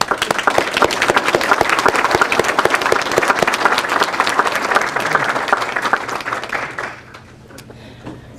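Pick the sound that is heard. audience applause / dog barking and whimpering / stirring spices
audience applause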